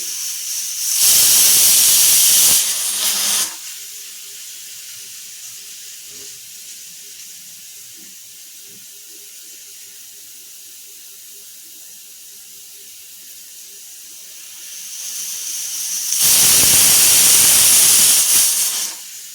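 A pressure cooker cooking rice lets off two loud, forceful bursts of hissing steam and sputtering water, one near the start and one at the end, with a quiet low simmer in between.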